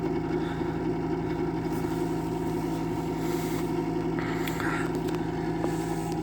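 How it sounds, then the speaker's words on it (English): A small inducer motor inside a Lennox furnace runs with a steady, even hum and faint background noise, continuous and unchanging, heard up close. "I hear the little inducer motor that is sitting inside this"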